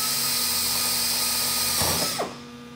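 A power drill whirs steadily while drilling holes in sheet metal, loud and close, then spins down and stops near the end.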